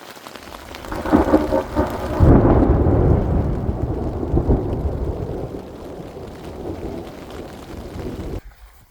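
A thunderstorm in Utah's backcountry, heard while backpacking: heavy rain hisses steadily while loud, close thunder rumbles and swells, then the sound cuts off abruptly near the end.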